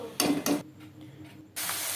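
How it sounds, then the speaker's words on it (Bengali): Potato chips frying in hot oil while being stirred, two loud bursts of scraping stir and sizzle, a quieter pause, then a sustained bright hiss of frying close by. "আমি তেলেতে ভালো করে নেড়ে নেড়ে ভেজে নিচ্ছি"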